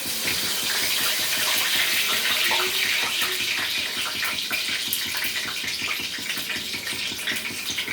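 Curry leaves dropped into hot coconut and sunflower oil sizzle loudly and steadily, a dense hiss broken by rapid crackles and pops throughout, with no talking.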